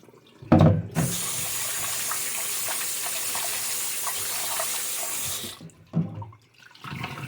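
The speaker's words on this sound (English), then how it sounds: "I'm going to go ahead and set water back on it for about another 10 minutes so I can make sure that we got all the baking soda off the meat" Water gushes steadily from a kitchen tap over skirt steak being rinsed of baking soda, a loud continuous stream lasting several seconds with a brief splash before and after, no talking.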